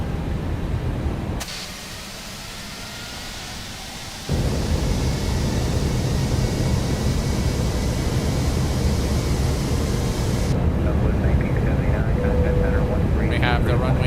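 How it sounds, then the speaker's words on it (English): Landing gear extending on a ToLiss A320 airliner in X-Plane 12, a dull mechanical shift and thump at about four seconds that raises the steady broadband cockpit and airflow roar, which continues loud and even, with a faint electronic tone near the end. "Landing gear coming down."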